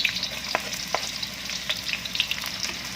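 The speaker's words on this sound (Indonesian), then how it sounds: "Di bawang merah, bawang putih dimasukkan" Shallots and garlic sauté in hot oil in a pan for tempeh stir-fry, a steady close sizzle with scattered crackles and pops throughout, no voices.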